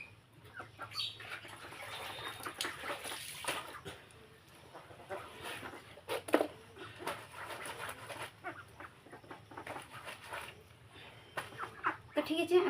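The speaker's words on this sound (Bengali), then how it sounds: "হাঁসগুলো প্যাক প্যাক প্যাক প্যাক করে আমার পিছনে এসে আছে খাওয়ার জন্য" Domestic ducks quack repeatedly while crowding behind a person for food at a rural Bengali home, irregular bursts of calls amid household background noise.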